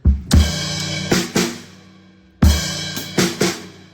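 A short drum kit figure from the opening of each bar of a song: heavy bass drum and snare hits with ringing cymbals, played twice in a row, loud and close with no talking.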